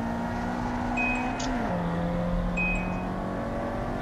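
A car engine drones steadily in an Assetto Corsa touge race, a continuous loud hum that drops in pitch partway through as the car shifts or eases off, then holds its lower note, with no talking.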